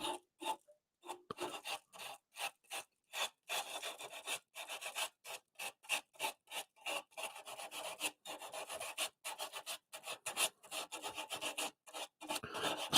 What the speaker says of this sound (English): I'll stop the lathe and kind of get that point sanded off.